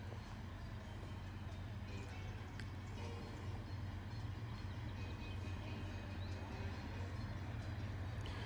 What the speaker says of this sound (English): Norfolk Southern, intermodal. Looks like it might have a UP locomotive in the second spot.